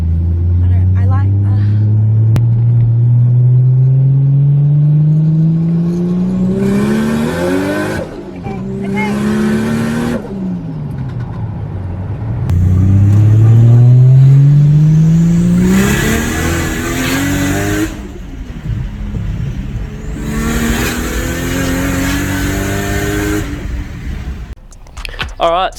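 A 750HP Ford XR6 Turbo with a screamer pipe revs hard several times, each pull climbing in pitch before dropping back, very loud and close, with blasts of wastegate and exhaust noise between revs.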